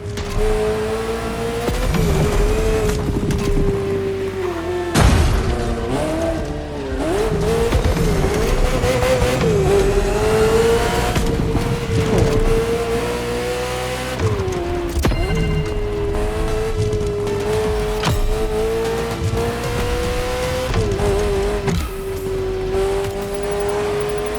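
A Ferrari F50 in The Crew Motorfest revving hard with a loud, sustained engine howl, its pitch rising and dipping through gear changes, with brief tire noise and a music-like bed underneath.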